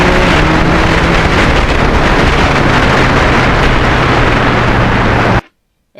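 Heavy wind buffeting a microphone while riding a Yamaha MT-09 three-cylinder crossplane motorcycle on a spring day, a loud, steady roaring rush with a low engine drone underneath, cutting off abruptly near the end.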